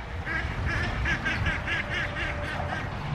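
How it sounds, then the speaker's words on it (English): Ducks quacking and fighting in Lancaster's Amish country: a loud, close run of rapid, raspy quacks in quick bursts over busy outdoor background noise. "These ducks are attacking this little other duck, and it's making me they're just all attacking each other"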